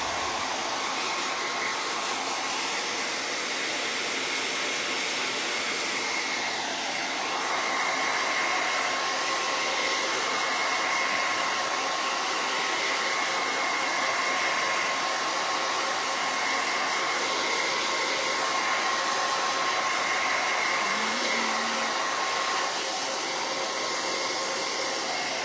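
A hair dryer blows steadily for a long stretch while drying a freshly washed item, a loud continuous whooshing hum with a faint whine that holds almost unchanged throughout, with no talk.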